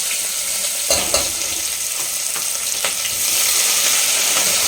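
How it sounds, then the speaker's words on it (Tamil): Onions sauté in hot oil for a kurma, giving a close, loud, continuous sizzle broken by a few sharp clicks of stirring, with no voice present. "வெங்காயம் வந்து சேர்த்தாச்சு. வெங்காயம் வந்து நல்லா வதங்கட்டும்."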